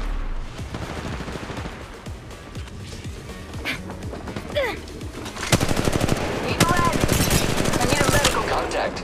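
Gunfire in the mobile game Apex Legends Mobile: scattered shots at first, then dense rapid automatic bursts that grow louder and more continuous toward the end, with occasional character voice lines mixed in.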